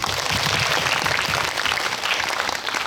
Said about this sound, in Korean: 박수 보낼까요?